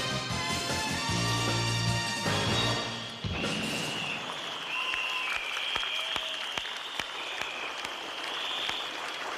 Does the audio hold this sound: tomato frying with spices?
no